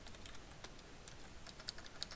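Quiet typing on a computer keyboard: irregular, fast clicks and taps, some keystrokes sharper than others, alone without talk.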